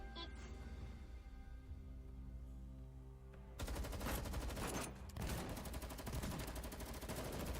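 Background music plays, then bursts of rapid gunfire in a courtyard in the video game Girls Frontline 2 break out and continue as dense, crackling volleys.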